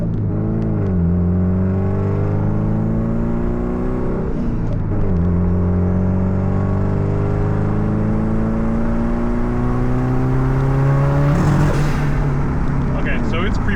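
Subaru STI engine accelerating under turbo boost while a boost controller is being tuned, loud and close from inside the car, with the engine note climbing in repeated pulls, shifts between gears, and a whoosh near the end.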